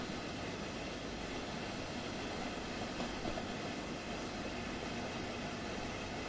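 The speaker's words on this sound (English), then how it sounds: "Another train moving." A passing train in the Train Sim World railway game, Ruhr Sieg Nord route, rumbles along as a steady, broad wash of rolling noise that holds throughout at a low level, with no voices.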